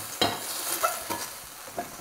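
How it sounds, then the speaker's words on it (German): Chicken breast searing in a hot frying pan, a steady close sizzle broken by a few sharp scraping stirs of a utensil against the pan, with no voices over it. "Sobald die Hähnchenbrust dann angebraten ist, kommt die direkt wieder raus aus der Pfanne."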